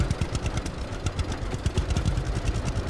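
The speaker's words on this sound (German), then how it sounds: "der Traktor bringt den Pegel hier schon in den gelben Bereich" A tractor engine in the logging game Lumberjack's Dynasty runs in a steady, close, loud idling chug with a rapid mechanical clatter, heard alone without voices.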